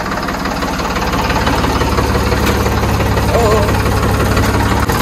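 A tractor engine runs steadily during a wheat harvest with a trolley hitched and a reaper nearby, a constant close, loud mechanical drone with faint voices underneath throughout.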